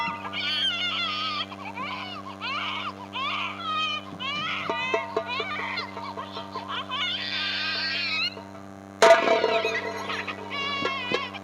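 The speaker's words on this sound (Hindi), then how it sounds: "बच्चे की रोने की आवाज" A baby cries in a hillside forest, with loud, continuous wailing cries that rise and fall in pitch, then a sharper, louder burst of crying near the end.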